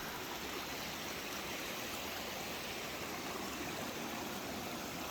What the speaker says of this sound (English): There's a bunch of water that's still coming out of the mountain over there.